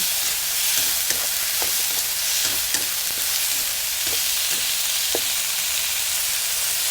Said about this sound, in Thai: เติมน้ำปลาไปหน่อยหนึ่งค่ะ ผัดให้เข้ากัน